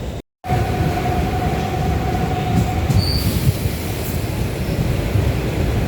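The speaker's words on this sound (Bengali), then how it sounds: "প্রিন্সেপ ঘাটে ট্রেনটা ছেড়ে দিয়েছে" A local train pulls out of Princep Ghat station in Kolkata with a steady, loud rumble of wheels and carriages, a brief silent gap at the start and a faint wheel squeal early on.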